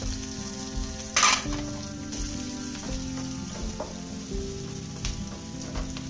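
Finely chopped onion tipped into hot oil with cumin seeds hisses into a loud, steady sizzle that keeps crackling close by for several seconds, with a short sharp burst near the start.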